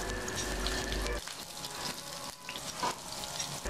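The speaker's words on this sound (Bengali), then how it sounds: "তেলটা গরম হয়ে গেলে এর মধ্যে দিয়ে দিচ্ছি পেঁয়াজ কুচি," Chopped onion frying in extra virgin olive oil: a dense crackling sizzle that drops and thins after about a second, then continues as a softer, steady fry with small pops.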